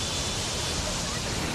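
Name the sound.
water rushing out of Kota Barrage dam gates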